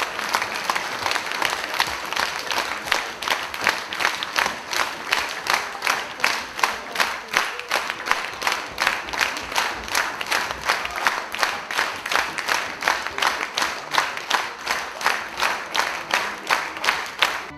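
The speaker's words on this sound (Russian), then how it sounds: "Завершение каждой части серенады зал отмечал бурными аплодисментами" A concert hall audience applauds at a symphony concert of serenade music, many hands clapping together in a rhythmic, pulsing ovation that holds steady and loud throughout, with faint crowd murmur beneath.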